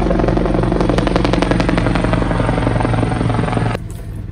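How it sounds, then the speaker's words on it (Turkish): A helicopter circles overhead before landing, its loud, close rotor chop beating in a fast, even rhythm until the sound cuts off abruptly near the end. "Helikopterim az önce inmek üzere. Şu anda ortada boş tur atıyor."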